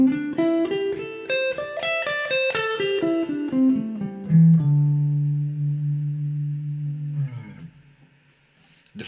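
Guitar runs through the D shape position of the pentatonic scale, clear single notes climbing and descending at a steady pace, ending on a held low note that slowly fades, with no voices.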